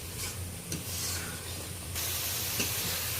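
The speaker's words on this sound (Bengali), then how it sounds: "সমস্ত মশলাটা এবার ভালো করে কষিয়ে নেব আরো 2-3 মিনিট ধরে।" Spice paste with ground cumin and coriander fries in oil in a pan, giving a steady sizzling hiss with occasional stirring scrapes, and the sizzle grows brighter partway through.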